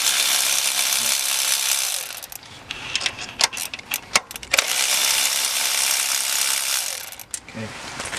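A ratchet wrench works on the valve cover bolts of a 1998 Toyota Corolla, first as a fast continuous clicking, then as a few short bursts of clicks and clanks, then a steady run of ratcheting again, loud and close.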